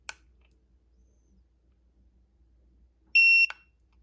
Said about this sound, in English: And you can see it beeping.